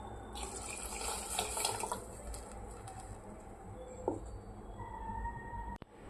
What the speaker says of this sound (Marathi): मी मिक्सरच्या भांड्यामध्ये थोडंसं पाणी टाकून